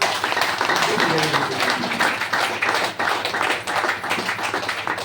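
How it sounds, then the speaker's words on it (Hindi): A dense wash of audience clapping fills a wellness centre meeting in Piariya, steady and loud for about five seconds, with a voice talking over it. "मैं चाहूंगा एक जोरदार ताली होनी चाहिए।"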